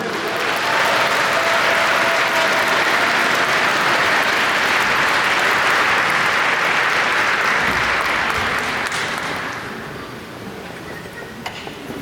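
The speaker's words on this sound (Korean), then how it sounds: "뜨거운 박수 부탁드리겠습니다." A large crowd at a Korean party convention breaks into sustained, loud applause that rolls on for several seconds, then tapers off and thins toward the end.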